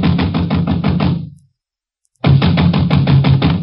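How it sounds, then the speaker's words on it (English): Rapid heavy knocks pound on a door in a steady drumming burst, stop for a moment of silence, then resume just as loud and fast, close and alone in a radio drama scene. "I was soon banging on a door there like a drummer playing Bob."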